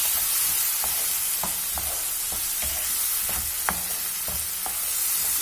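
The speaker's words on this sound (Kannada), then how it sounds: "ಈಗ ಇದನ್ನು ಚೆನ್ನಾಗಿ ಮಿಕ್ಸ್ ಮಾಡಿಕೊಂಡು ಚೆನ್ನಾಗಿ ಕುದಿಸ್ಕೊಳ್ಳೋಣ" Ground puliyogare masala paste simmers and is stirred in a pan, giving a steady bubbling sizzle with rhythmic scraping strokes of a spoon close by, and no voices.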